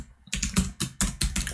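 An email address is typed on a computer keyboard as a quick run of crisp, close key clicks in an uneven rhythm, with no voices.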